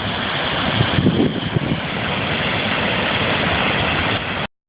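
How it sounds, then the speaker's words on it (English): A waterfall pours in a steady, loud, broadband rush close by, unbroken and with no voices over it, near a campsite in what appears to be Iceland. "Super awesome waterfall."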